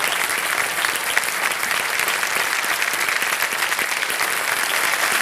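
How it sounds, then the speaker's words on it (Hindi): Studio audience applause for a junior contestant on the Kaun Banega Crorepati quiz show, loud, dense, sustained clapping from a large crowd filling the whole stretch. "तालियां बज जाए इनके लिए"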